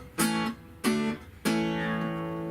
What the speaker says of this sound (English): This is the sound of the natural guitar.